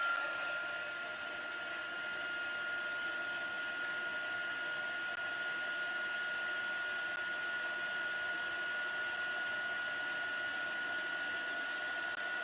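Steady whirring blast of a heat tool melting embossing powder on a seashell, continuous and fairly loud with an even hiss throughout, no talking.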